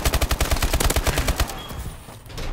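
Rapid automatic gunfire from a gun in Call of Duty: Advanced Warfare, a loud close burst of evenly spaced shots for about a second and a half that then cuts off, leaving a fading echo.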